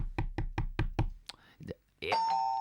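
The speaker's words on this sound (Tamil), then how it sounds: "யாரோ கதவு தட்டுறாங்க" Knocking on a door in a Tamil TV serial scene, five sharp evenly spaced raps close by, followed by brief voices and a ringing, chime-like tone at the end.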